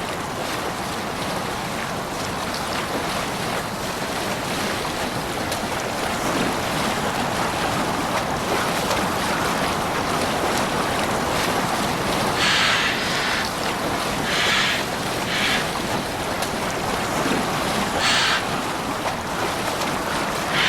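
A boat in Assassin's Creed Valhalla sails on the open sea. Waves and rushing water mix with steady wind in a loud, constant wash, and a few faint creaks or knocks come through midway.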